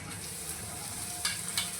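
Sliced okra sizzles steadily in hot oil in a pan, a constant bright crackle with a few sharper spits, close and loud with no talking.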